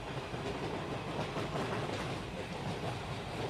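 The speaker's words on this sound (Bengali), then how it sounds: "ট্রেন ছুটে চলেছে হেমন্তের শীতল পরশে" A train runs steadily along the rails in a dense, continuous rumble with fast clattering wheel rhythm and no pauses.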